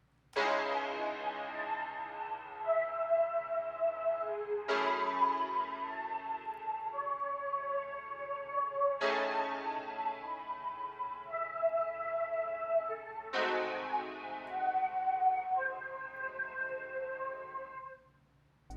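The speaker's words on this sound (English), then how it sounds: "on Melody Sauce I added Ujam's UFX Reverb, and it now sounds like this." Chord-based music built with Scaler 2 and Melody Sauce, drenched in UFX Reverb: four sustained, evenly spaced chord swells with long reverberant tails over a steady low pulse, playing alone with no talking.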